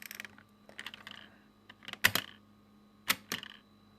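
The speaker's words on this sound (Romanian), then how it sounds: "Stați un pic că nu prea mai merge tastatura." Keys clatter on an old, worn computer keyboard in scattered bursts, a few sharp clustered clicks separated by pauses, close up with a faint steady hum underneath and no talking.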